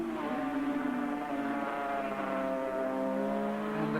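Two-stroke and four-stroke racing motorcycles at Oran Park in 1986, engines screaming at high revs with shifting pitch as they pass, loud and continuous for several seconds without talk.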